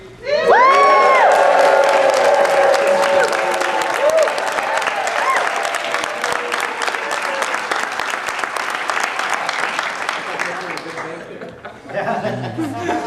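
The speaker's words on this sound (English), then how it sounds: "I want to get everybody cheering for my Instagram video" A Comic-Con panel audience bursts into loud cheering, whooping and applause all at once, sustained by the crowd for about ten seconds before tapering off, with a voice resuming at the end.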